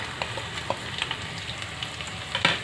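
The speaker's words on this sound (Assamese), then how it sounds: "মছলাখিনি 1 মিনিটমান সময় ভাজি লৈছোঁ" Ginger paste, garlic paste and green chilies fry in a pan, giving a continuous close sizzle broken by light stirring scrapes and small pops.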